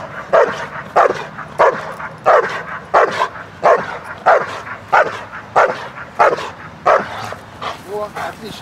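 A Beauceron barks in a steady, loud rhythm during protection training, roughly a dozen close bow-wows about one per second, ending in a few higher whining yips.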